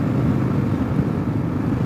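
A 2022 Kawasaki KLR650 adventure motorcycle with a Yoshimura RS-2 exhaust and the snorkel removed, giving a steady loud low engine rumble throughout with no talk.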